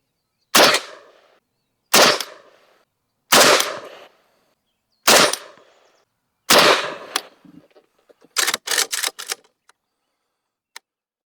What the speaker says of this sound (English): this time we got 5 rounds of the Max Tech loaded up, and we're going to shoot these at the bottom right